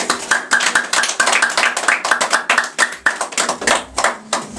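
An audience applauds Mr. Elmison with a burst of steady, rhythmic hand clapping, close and fairly loud, keeping up an even beat for several seconds with no talking over it.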